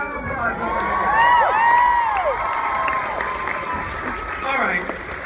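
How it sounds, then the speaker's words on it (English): Applause and cheering from a convention panel audience at San Diego Comic-Con, a sustained crowd roar with clapping, whoops and high shouts sweeping over it, staying loud throughout. "Come on, big round of applause over here."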